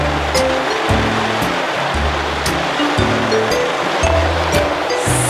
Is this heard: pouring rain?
yes